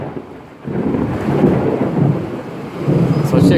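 Steady heavy rain with a deep rolling rumble of thunder building underneath, loud and continuous with no talking.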